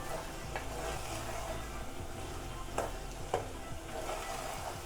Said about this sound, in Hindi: अब इसको हम भूनेंगे अच्छे से